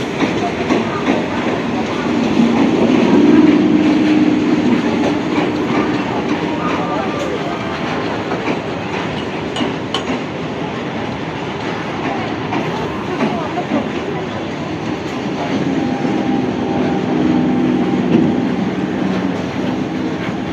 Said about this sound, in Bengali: এটা ডাউন শান্তিপুর শিয়ালদা লোকাল